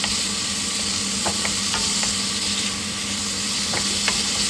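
Beef stirred in hot cooking oil in a pan for a beef broccoli with mushrooms dish, a steady close sizzle with light scraping stir strokes scattered through it.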